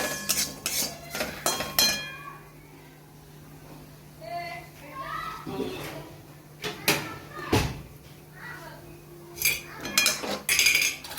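Spice masala being stirred with a metal spoon in a pan while making mango pickle, with a series of clinks and scrapes and pauses between them as a person talks.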